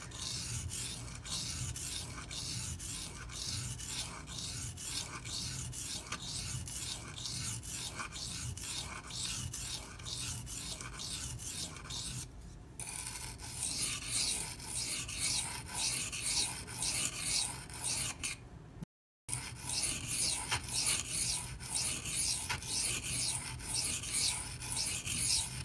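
A Benchmade Mini Freek knife with S90V steel is sharpened in steady rasping strokes against an abrasive, a continuous rubbing grind with brief pauses, close and alone.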